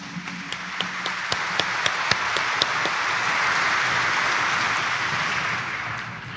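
Congregation at a Catholic homily honoring Jesus Nazareno claps, starting with scattered sharp claps that build into a steady, dense round of applause filling the church.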